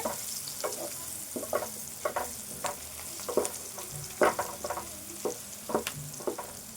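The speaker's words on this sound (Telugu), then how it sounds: "ఈ ఉల్లిపాయ, ఈ మసాలాలు ఇవన్నీ ఇట్లా వేగాలి." Onion and masala fry in a pan for a curry with eggplant and chicken, a soft continuous sizzle broken by repeated scraping stir strokes at an uneven rhythm, close and moderately quiet.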